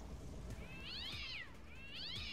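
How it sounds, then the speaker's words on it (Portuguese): Two drawn-out, whining cat meows, roughly a second apart, sound close and clear from a cat in modded Minecraft over a low background hum, with no talking. "Tá fazendo barulho de gato?"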